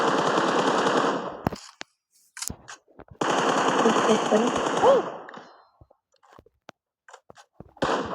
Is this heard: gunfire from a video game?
yes